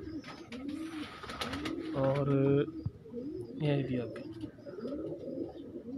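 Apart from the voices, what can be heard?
pigeons cooing in a breeder loft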